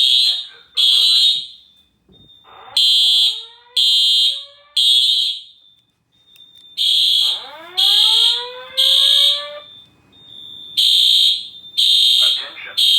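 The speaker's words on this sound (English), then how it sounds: "Attention, attention, attention. This is a fire alarm. Exit the building." A Simplex fire alarm system sounds loud, evenly spaced high-pitched horn blasts in bursts, alternating with a rising sweep tone and a recorded voice evacuation message.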